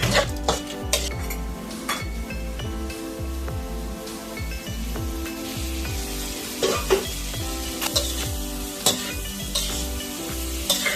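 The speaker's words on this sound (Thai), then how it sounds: "จะคลุกให้เร็ว ๆ เลยนะครับ เดี๋ยวจะไหม้นะครับ" Shrimp with fried garlic, ground pepper and chopped chili stir-frying in a pan: a constant close sizzle with repeated scraping and clinking of a metal utensil tossing the food.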